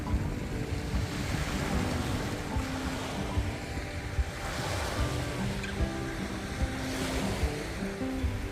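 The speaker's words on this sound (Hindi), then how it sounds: "सुबह का समय है, ठंडी हवा चल रही है और समुद्र की लहरें" Morning sea waves roll in on the Gulf of Aqaba at Taba Heights, Egypt, a continuous rushing surf with gusts of wind buffeting the microphone and no speech.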